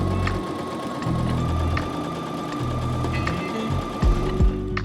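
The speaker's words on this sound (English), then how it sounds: "I'm going to go ahead and sew this again on my sewing machine" Sewing machine running steadily as it stitches a 1 cm seam on a summer top, a continuous close mechanical whir with rapid needle chatter and brief pauses and restarts, no voices.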